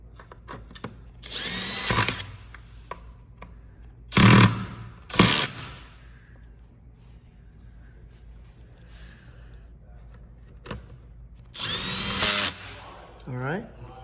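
A power drill drives screws into an iQ360XT vacuum motor assembly in several short, loud whirring bursts separated by quiet stretches, with faint handling noise and a brief breath between them.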